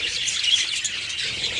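Budgerigars chirp and twitter continuously in a breeding cage, a steady close-up stream of small high bird calls with no talking.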